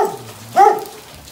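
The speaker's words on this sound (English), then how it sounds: "Unfriendly neighbor dog." A neighbour's dog gives one short, unfriendly bark at mid range, a brief sharp burst standing out from the quiet outdoors on a cold, rainy day.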